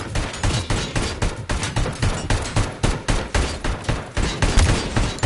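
Sniper rifle fire in RoboCop: Rogue City comes as a long run of sharp, evenly spaced shots, roughly two per second, loud and close with no talk over them.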